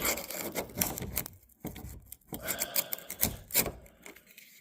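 Rust is chipped and scraped off a 1979 Dodge Power Wagon, heard up close as irregular rasping scrapes and sharp taps with short gaps between strokes.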